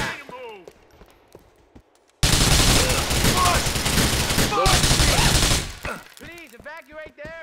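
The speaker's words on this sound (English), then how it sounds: "Check yourself, we're being shot at!" Dense, loud gunfire in the video game GTA 4, a sustained fusillade of rapid shots with glass-shattering crashes that breaks off briefly and resumes, framed by character voices shouting before and after the burst.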